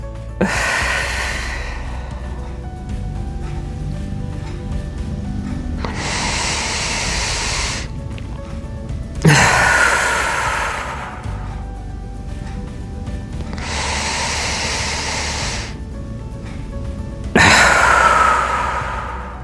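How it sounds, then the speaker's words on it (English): Slow, deep breaths during a pelvic floor exercise for prolapse recovery alternate between long exhales and inhales, each one loud, close and airy with brief gaps between them. "Exhale. Inhale."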